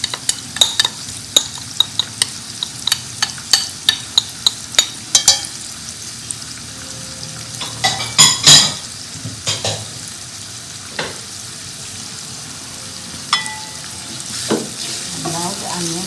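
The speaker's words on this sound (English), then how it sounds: "And now the onions are cooking." Onions with chili powder, turmeric and garam masala frying in a pan, a steady sizzle broken by repeated scraping stir strokes, clustered early and then sparser, close and moderately loud with no talk.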